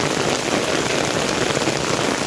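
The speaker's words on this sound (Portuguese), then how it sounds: "E eu mostrando aqui pra vocês o toró" Heavy rain pours down in Saloá, Pernambuco, in a dense, steady roar, close and loud, with a constant hiss of drops hitting surfaces and no voices.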